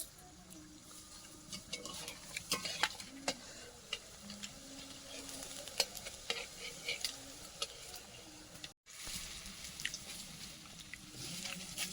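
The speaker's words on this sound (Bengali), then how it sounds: "এখানে আমাদের আরও পকোড়া ভাজা হচ্ছে" A steady crackle and sizzle of vegetable pakoras frying in oil over a wood-fired clay stove runs throughout, dotted with sharp pops and ticks, close and continuous.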